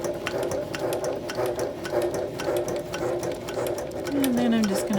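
A sewing machine stitches a rolled tote bag handle with a steady, close whirring hum and rapid needle ticks. A voice speaks over it, and the motor pitch slides down as the machine slows near the end.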